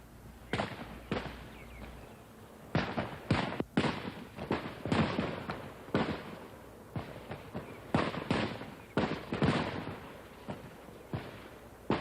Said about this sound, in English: Here every shot counts more than ever. At this range we qualify.